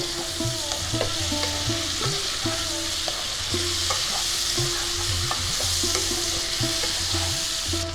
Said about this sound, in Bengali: আলু ফুলকপিটা ভেজে নেব।